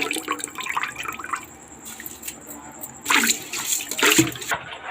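Water and soaked basmati rice poured into a pot of boiling water for a country-chicken biryani, a splashing, gushing pour in two short bursts after quieter trickling.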